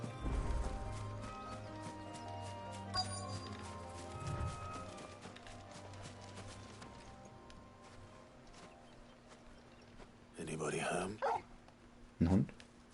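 A dog barks and yips in the video game Final Fantasy XVI, with a couple of short bursts near the end over a quiet game soundscape that holds low musical tones and a few hoof-like steps.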